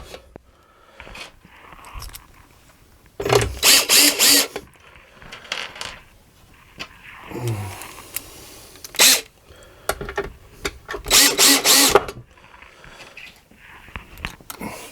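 A power driver with its clutch engaged runs in several short whirring bursts as it nips screws into a speaker baffle, with quiet handling noises between the bursts.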